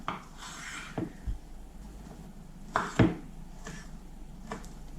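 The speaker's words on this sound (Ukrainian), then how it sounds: "Для початку потрібно нарізати 250 грамів ось такого бекону." A knife cuts smoked pork belly bacon into pieces on a cutting board in a kitchen, giving a few sparse, close, quiet thuds and scrapes separated by pauses.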